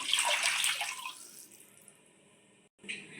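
Three tumblers of water pour in a splashing stream into a pot that tapers off to a thin trickle, then a brief splash returns.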